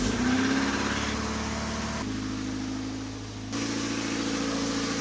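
A car engine runs steadily after a Wynn's engine flush, a continuous idle hum with a brief dip in level partway through before settling back, fairly close and with no voices.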